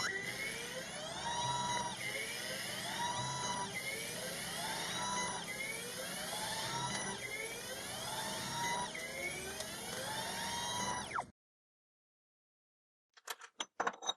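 Machine tool cutting a spindle housing, a sustained buzzing whine with repeated rising and falling sweeps about every two seconds, moderately loud, then stopping abruptly into silence broken by a few faint clicks.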